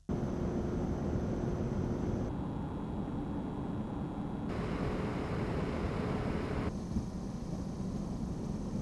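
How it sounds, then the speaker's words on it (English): Cooling fans of small Zhiyun, SmallRig, Godox and Nanlite video lights, steady broadband whooshing hiss that shifts in tone every few seconds as each light runs in turn, loud and continuous. "let's talk about fan noise, because you might be using these tiny lights on a set where you're recording audio"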